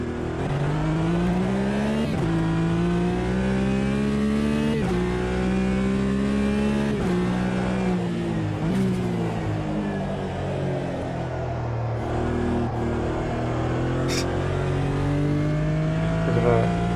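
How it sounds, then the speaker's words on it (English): A Porsche 911 flat-six revs through repeated climbs and gear changes in the racing game Automobilista 2, a deep, throaty engine note that stays loud and continuous. "a deeper, more throaty flat six sound on this thing"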